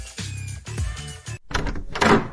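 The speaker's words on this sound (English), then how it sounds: "Sheila opens the door" An animated door in a puzzle cartoon opens with a solid thunk and creak, followed by a brief rustling, sliding swoosh, all short and close.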